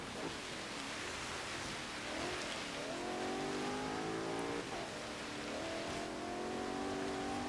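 A 1993 Porsche 928 GTS V8 driven in Forza Horizon 3 on a snowy hill climb, the engine rising in pitch through repeated accelerations and gear changes under steady road and wind noise, continuous and moderately loud.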